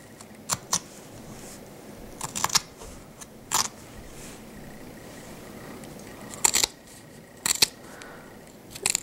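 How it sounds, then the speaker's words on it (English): Several crisp snipping cuts of scissors through fabric, spaced irregularly and close up, over a quiet background hiss. "just cut a little bit so that I have some place to stick my scissors through"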